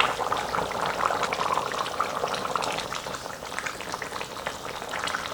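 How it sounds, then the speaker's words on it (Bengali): Kadaknath chicken curry bubbles at a rolling boil in a pot over a village-style stove, a continuous close hiss and dense crackle of bursting bubbles with no talking. "দেখুন ফুটে উঠেছে, এবার এর মধ্যে আলুটা দিয়ে দেবো।"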